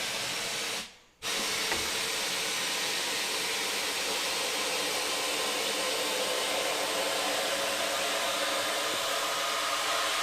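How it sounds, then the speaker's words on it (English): Air is blown steadily into a motorcycle inner tube with the valve core removed during a tyre change on a vintage 1200, a loud continuous hiss briefly cut off near the start, then resuming unbroken. "So we've taken the valve core out, so we're just going to blow air in."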